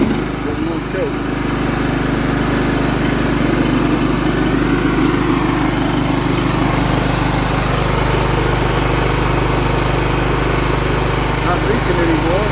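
A John Deere L110 lawn tractor, left sitting for ten years, runs at a steady idle with a continuous low engine drone and buzzing vibration, loud and close, holding even throughout without any speech.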